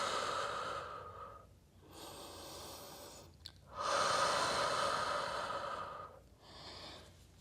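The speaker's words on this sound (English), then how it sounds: "Drawing nice deep inhales in through the nose, and slowly control your exhale through pursed lips." Slow, deep breathing during a Pilates stretch: long airy inhales alternating with controlled exhales, about four breaths in all, close and soft with no talking.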